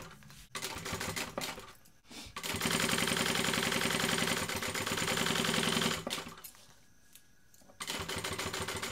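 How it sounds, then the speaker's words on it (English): A sewing machine top stitches along the top edge of a fabric bag at a 4.5 stitch length, running in steady rapid bursts with short pauses between them, close and loud with no talking. "I'm going to top stitch this top edge"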